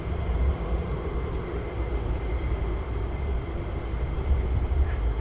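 A fighter jet taxiing on the ground at RAF Lakenheath gives off a steady low rumble and broad roar from a moderate distance, constant throughout with no talk.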